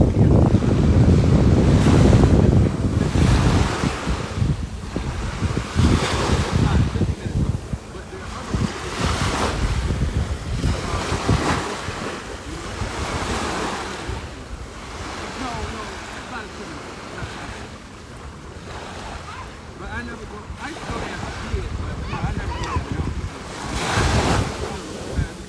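Surf washes ashore at a nearby beach on a lovely day, waves breaking in repeated swells under steady wind buffeting the microphone, loudest at the start and continuous throughout.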